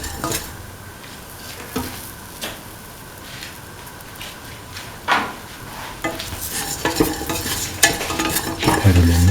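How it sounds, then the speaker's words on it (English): Ground spices, garlic, ginger and shallots stirred in a hot pan for a beef, green peas and coconut milk stew, a low sizzle under spoon scrapes and taps that grow busier and louder toward the end. "mix the mixture of spices with the garlic, ginger and the shallots"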